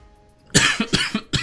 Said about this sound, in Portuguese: Caramba, essa tosse, gente